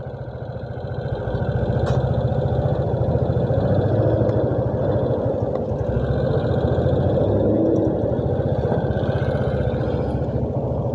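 A Suzuki Burgman scooter's engine runs steadily on the road with a loose exhaust can, giving a continuous buzzing drone with a faint metallic rattle mixed in, close and fairly loud throughout.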